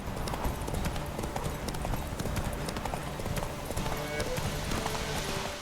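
Hooves of the horse Roach gallop steadily in a rapid clip-clop rhythm through The Witcher 3 video game, loud and continuous, with someone talking over it.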